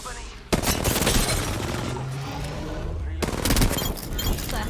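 Gunfire in the Apex Legends video game, rapid bursts of automatic shots, loud and close, with a pause between two volleys and voices talking underneath.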